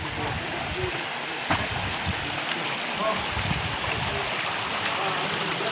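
Water flowing continuously from a spring at a Khodiyar temple, a steady rushing wash heard up close, with faint voices and a few brief knocks in the background.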